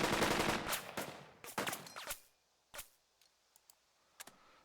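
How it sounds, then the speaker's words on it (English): A squad in the WWII game Burden of Command fires into a house: a dense burst of rapid gunfire for about two seconds, then a few isolated, sharp shots and clicks trailing off into near silence. "I'm going to have this squad recon by fire and weapon range into the house."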